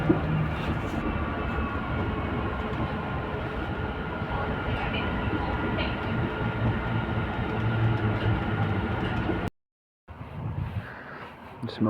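Steady loud rumble and rolling noise of a train close by, continuous for several seconds, then a brief cut and quieter ambient noise.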